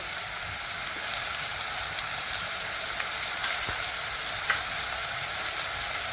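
Chilli powder and spices fry in a hot pan with a continuous, even sizzle and hiss, broken by a few faint clicks of a spoon stirring; no voices.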